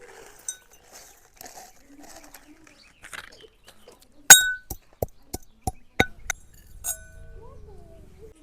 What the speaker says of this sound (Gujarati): હવે આપણે આદુ અને મરચાં ખાંડી નાખી